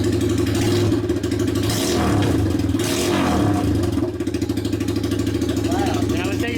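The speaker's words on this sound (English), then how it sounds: "we're going to fire it up for the first time with no muffler" Lifan KP Mini 150/200cc motorcycle with big bore kit and carburetor upgrade running with no muffler, a loud raw, throbbing idle with brief revs, while someone talks over it.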